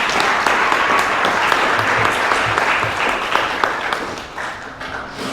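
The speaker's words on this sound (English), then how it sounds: "give a quick round of applause for Carter Godwin Woodson." Loud, full applause rises from the crowd at a Black History Month leadership brunch. The steady clapping stays dense for several seconds before dipping slightly near the close.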